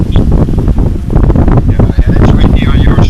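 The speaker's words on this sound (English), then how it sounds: "Oh, it's real windy on our side." Strong wind roars and buffets across open water with spray blowing off the surface. The gusts stay loud and close throughout, and a voice speaks faintly under them.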